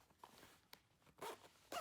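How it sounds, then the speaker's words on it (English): A zipper on a Nintendo Switch Lite carrying case is pulled in quiet, close strokes, a couple of faint ticks followed by two brisk rasping zips near the end. "Good zip."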